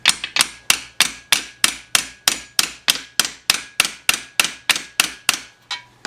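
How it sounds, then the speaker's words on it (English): A hammer taps exhaust studs into a Honda catalytic converter flange, giving about fifteen sharp metallic strikes in a steady, even rhythm, close and loud with ringing decays, no talk. "get a hammer and just gently press it in"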